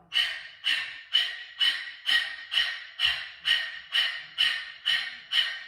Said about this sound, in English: then open the mouth and pant like a dog